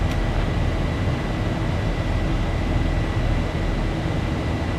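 Airliner engines roar steadily during the climb out of Phoenix in X-Plane 11, a loud, continuous low rumble with no talk.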